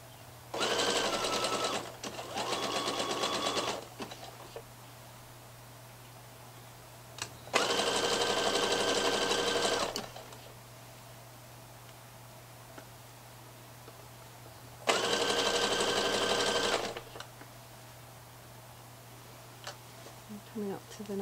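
A domestic sewing machine stitches a sweatshirt in three separate runs of steady, fast mechanical whirring, with quiet pauses between bursts while the fabric is readjusted and a low constant hum underneath.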